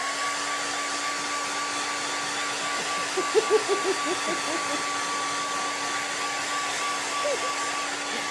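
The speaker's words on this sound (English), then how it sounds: "you're blow drying" A hair dryer blows with a steady, even whoosh and a faint motor whine that runs unbroken throughout, moderately loud, with no talking.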